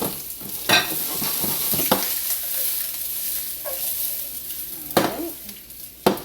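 Chopped onions sizzle and fry in a hot pan, a steady loud hiss broken by several sharp scraping stirs and clanks of a utensil, close up with no talk.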